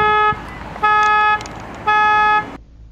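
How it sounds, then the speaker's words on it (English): A Jeep's car alarm sounds in loud repeating bursts of a harsh, steady electronic horn tone, three blasts separated by short pauses. "A short time later, the Jeep's alarm was going off."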